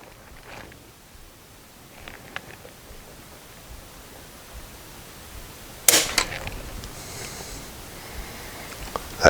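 Nighthawk Customs drop-in trigger in a 1911 pistol being pulled, giving a sharp dry click near the middle and another at the end, with faint softer ticks before, in an otherwise quiet room.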